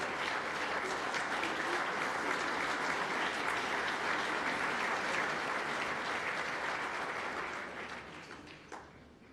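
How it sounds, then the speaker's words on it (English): A big round of applause at the 2017 Rolex LPGA Awards honoring two first-time winners, a broad sustained wash of many hands clapping that holds steady, then tapers off near the end with a last few scattered claps. "I'd like you to give a big round of applause"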